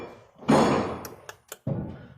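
Items being unloaded from the back of a GMC 3500 Savana van bang and thud nearby, a heavy thump followed by several short knocks and another dull clunk, with no talking.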